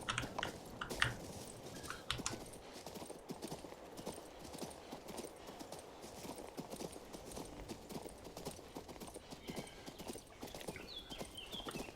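Horse hooves clip-clop steadily through the King's Bounty 2 game world, a continuous rhythmic trot under ambient background sound, with no talking.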